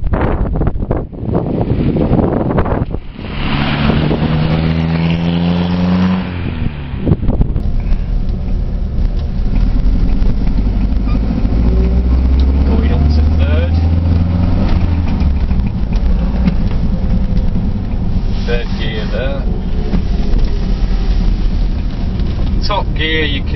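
A car with a steering column gear shift drives on in a low gear, its engine rumble steady and loud under heavy wind buffeting, with a shift change early on and a person talking over the noise.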